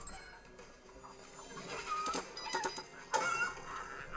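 Cartoonish chicken clucks and bleat-like squawks from a VR shooter on Oculus Go where homing chickens are fired at enemies, bursting out in several short loud clusters over busy game sounds.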